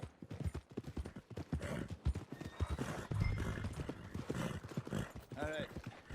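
Horse hooves clip-clop steadily through Red Dead Redemption 2, walking at an even rhythm beneath voices talking over the game, with a brief whinny near the end.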